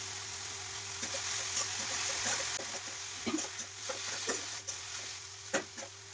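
Radish pods (mullyachya shenga) frying in a kadhai with garlic, a steady low sizzle broken by several soft stirring scrapes and clinks, fairly close, with no talking.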